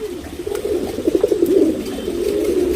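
Soft, continuous cooing from a tournament racing pigeon, an HMT breed male, heard close up as a low, rolling burble that swells and wavers throughout, with no talking.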